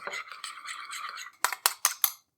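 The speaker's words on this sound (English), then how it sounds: "A good amount of sriracha sauce, and a good pinch of salt. Stir to combine." A spoon stirring sriracha sauce and salt into mayonnaise in a bowl, a soft scraping swirl followed by four sharp clinks against the bowl, close and alone.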